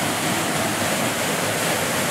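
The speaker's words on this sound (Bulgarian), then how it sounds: "Виждате как водата се стели от тази голяма скала." A waterfall pours over a large rock in a natural setting near Fotinovo, giving a steady, dense, close rush of water with no breaks.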